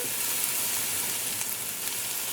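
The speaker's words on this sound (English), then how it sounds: "And just allow this to saute for all of those flavors to come out." Onions, thyme, cinnamon sticks and cloves sautéing for a vegetarian soya pepperpot, a soft steady sizzle with faint stirring, close and without talk.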